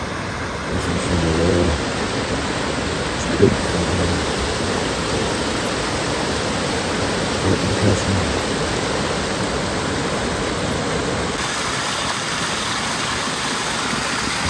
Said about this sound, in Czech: Tichoučko, jenom ta voda šumí.